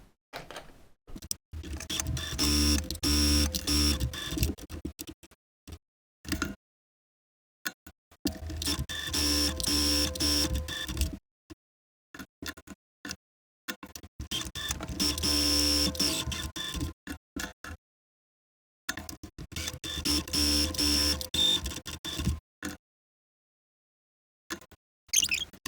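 A sewing machine stitches a seam joining two dress pieces, running in four long steady bursts of mechanical whirring separated by short pauses, close and alone with no talking.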